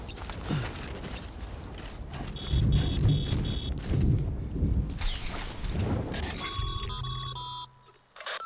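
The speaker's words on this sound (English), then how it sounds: "Don't stay out in the rain any longer than you have to." Timefall rain and thunder in the video game Death Stranding: steady rainfall with low rumbling swells, mixed with mechanical beeps and chiming tones from game gear, then a bright electronic flourish near the end.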